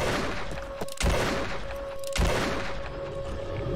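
Gunfire in the horror video game Dementium 2 during a boss fight: loud, dense rapid shots with sharp booming bursts near one and two seconds, over a steady game drone, no talking.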